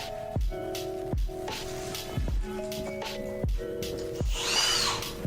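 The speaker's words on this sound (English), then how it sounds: "what I'm actually going to be using for this is a 3/4 inch fly bit" A power drill with a 3/4 inch fly bit revs up and winds down in short repeated bursts with falling whines, each start and stop distinct, ending in a rougher cutting rasp as the bit bites into material during plumbing work.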